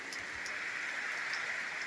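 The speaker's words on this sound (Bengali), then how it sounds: "দেখুন দোকানে সকালে বৃষ্টি হচ্ছে সাইডটা।" Morning rain falls outside a shop, a steady even hiss of drops holding at a constant low level throughout with no voices.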